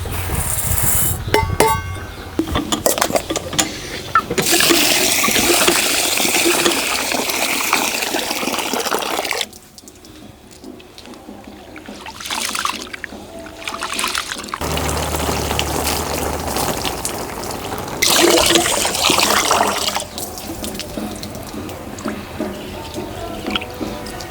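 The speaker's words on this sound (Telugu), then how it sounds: "ఇప్పుడు మూడు గ్లాసుల బాసుమతి బియ్యాన్ని కూడా శుభ్రంగా కడుక్కొని ఒక్క అరగంట సేపు నానబెట్టుకుందాం" Basmati rice being washed in water, with splashing, swirling and pouring sounds coming in long stretches separated by quieter gaps, close and fairly loud with no talking.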